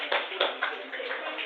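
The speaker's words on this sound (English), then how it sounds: "so clap for Madam Afrakoma" Students in a classroom break into a short burst of clapping, a thin, crowded patter of hands with a few sharper claps standing out, heard through a narrow, tinny recording.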